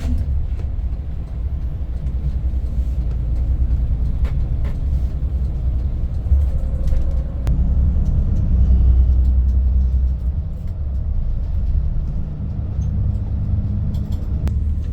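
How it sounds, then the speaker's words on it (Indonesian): A Tividi Aventador bus on the Jogja–Tangerang trip drives along Jalan Raya Daan Mogot after leaving the Grogol toll exit. A steady low engine and road rumble is heard from inside, with faint clicks and rattles and no talk. "Selanjutnya bus melintasi Jalan Raya Daan Mogot."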